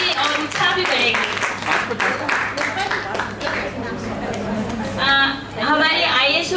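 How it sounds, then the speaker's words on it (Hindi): Audience applause at an Inner Wheel Club foundation day celebration: dense, steady clapping blended with loud overlapping chatter and voices, swelling again near the end. "बजते रहे तालियां।"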